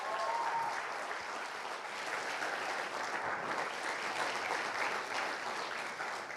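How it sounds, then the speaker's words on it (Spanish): A church congregation applauds during a sermon, a dense, steady wash of many hands clapping that fills the room continuously and evenly, with no voices standing out. "Yo le daría un aplauso más fuerte a Él."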